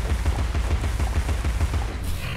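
Rapid automatic gunfire from a video game, a fast steady burst of shots close and loud throughout, ending with a brief brighter hiss.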